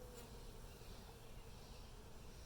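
Honey bees buzz around an open beehive as a super is added, a dense, steady droning hum of many insects close by with no speech over it.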